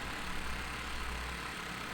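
In a survival video game, a pull-started generator engine runs with a steady, low mechanical rumble and hiss, fairly quiet and even, with no voices.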